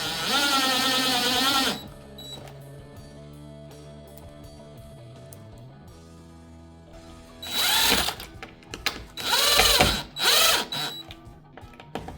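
A power drill whirs in several short high-pitched bursts while drilling holes in a door frame, one at the start and a cluster later, with quiet handling noises between.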